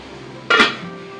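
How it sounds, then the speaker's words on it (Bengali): A metal lid lands on a cooking pot with one sharp clanking clink and brief ringing, up close, over quiet kitchen background. "এখন ঢাকা দিয়ে দেবো।"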